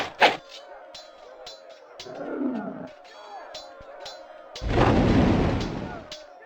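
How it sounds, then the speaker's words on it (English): Archers loose volleys in the Warhammer: Shadow of the Horned Rat strategy game: a sharp crack opens, soft clicks and a low rumble follow, then a second heavy, sustained burst lands near the end. "So it takes 19 volleys to kill one of these guys with the archers. Fire!"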